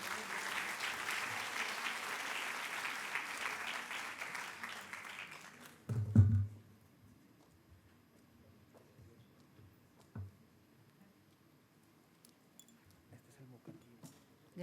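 Applause at a Peruvian international congress on gender in the administration of justice, honouring the president of the judiciary; steady mid-level clapping for about six seconds, then it stops abruptly, leaving faint room noise and a few small knocks.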